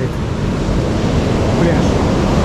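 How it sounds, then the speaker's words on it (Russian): Stormy sea waves surge onto a town beach, a dense, loud, continuous roar of surf with wind buffeting the microphone throughout. "На море шторм заливает"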